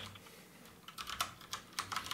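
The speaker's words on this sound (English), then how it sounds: "Oh, my keyboard gave me away." Quick bursts of clicking keys on a computer keyboard, irregular and fairly close, rising in pace toward the end over a low background hum.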